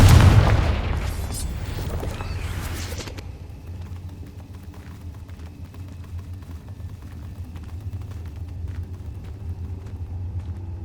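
An explosive spell cast in a Hogwarts video game detonates with a loud, booming blast over the first few seconds, then settles into a steady low rumble with faint crackling.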